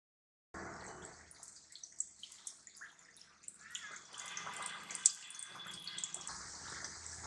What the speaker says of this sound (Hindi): अब इसमें हम ऑयल में डालते जाएंगे।